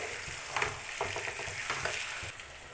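Chicken frying in a pan with turmeric and ginger-garlic paste, giving a steady close sizzle broken by several sharp scrapes and clinks of a spoon stirring the meat.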